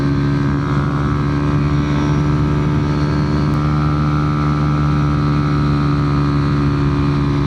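A small motorbike holds full throttle, its engine a constant loud buzzing drone mixed with heavy wind rush over the microphone, steady throughout with no voices.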